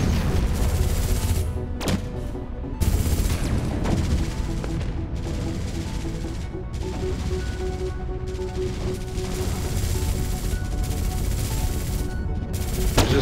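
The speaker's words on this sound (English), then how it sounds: "Oh, they're shooting now." Spaceships firing weapons during a space battle in Endless Space 2, with dense rapid bursts of gunfire, crashes and booms in continuous overlapping volleys, loud throughout.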